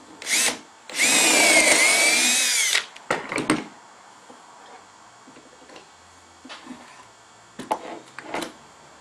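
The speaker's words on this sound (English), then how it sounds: "and drill." A power drill whirs loudly for about two seconds, bores a short burst into a wooden board using a dowel jig, then a few clicks and taps of wood and tools follow.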